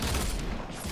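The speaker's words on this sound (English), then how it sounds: "I was literally shooting him head on." A dense burst of Fortnite gunfire fills a single second, a loud, continuous rattle of overlapping shots with no gaps or voices.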